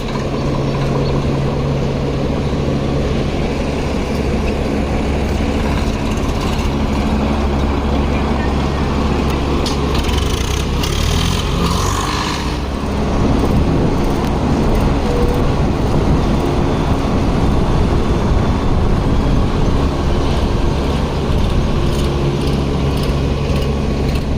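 Suraj 744 FE tractor engine running at a sugar mill yard, a loud, steady, close diesel rumble that holds continuously throughout with a slight shift in tone midway.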